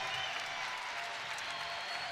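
A crowd at a college wrestling dual meet, Penn State at Illinois, bursts into steady applause after a takedown, a dense, continuous clatter of clapping heard from a distance with no voices on top.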